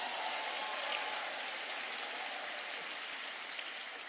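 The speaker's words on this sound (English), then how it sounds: "How about a round of applause for all of you for making it in here?" Sustained, dense applause from a large student audience at a campus speaking event at UC Berkeley, an even steady wash of clapping throughout with no voices over it.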